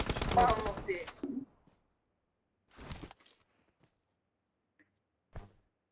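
Gunfire in the video game PUBG Mobile, a quick burst of shots followed by isolated single reports after silent pauses, sharp and fairly distant.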